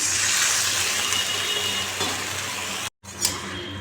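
Water poured steadily into a pan of egg curry with tomato and green chilli, a loud continuous gushing splash that cuts out briefly near the end, then a short clink and trickle.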